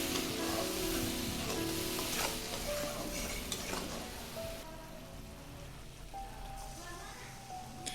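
Chili and turmeric powders sizzle in a pan with a splash of water, a spoon stirring and scraping steadily through the crackling; the frying hiss softens partway through.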